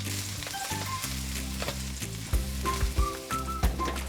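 Garlic sizzling and frying in a preheated wok with some onion, a steady close crackle over low background hum with occasional clinks of stirring.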